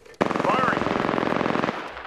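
Rapid automatic gunfire in Apex Legends, a dense burst of shots lasting about a second and a half, loud and close, starting abruptly and then stopping, with a faint ricochet-like whistle.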